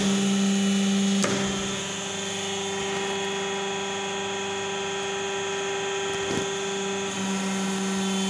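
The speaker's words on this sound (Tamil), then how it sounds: "இப்போ பம்பை நம்ம ஆன் பண்ணிக்கணும்." A hydraulic pump running a double acting cylinder gives a steady, even motor hum with a constant tonal whine and two brief clicks, close and alone with no talking.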